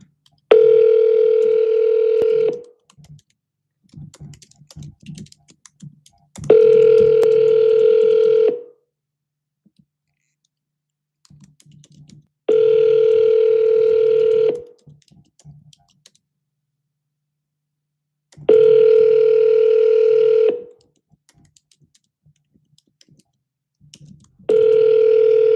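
Telephone ringback tone during an outgoing call: a steady two-note tone sounds in five evenly spaced bursts of about two seconds, with quiet clicks and faint background noise in the gaps.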